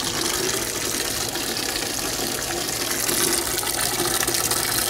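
Water gushing steadily into a washing machine drum, a loud, even rushing fill noise close by with no talking.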